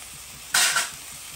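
Tomatoes cook in a pan over lowered heat, where a quiet background gives way to a sudden short burst of sizzling that fades within about half a second.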